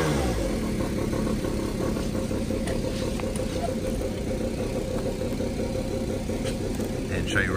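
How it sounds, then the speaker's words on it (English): An Aprilia DiTech motorcycle engine runs close and loud with a dense, steady rumble and rapid pulsing throughout, sounding like a continuous idle with no voices. "Start up the bike here."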